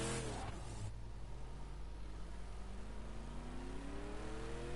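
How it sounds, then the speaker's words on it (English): A race car engine in the Scorch race of Australia revs continuously as the car spins a donut, its pitch swinging and climbing over a loud, steady roar. "Sounds like Ballistic is doing a donut there"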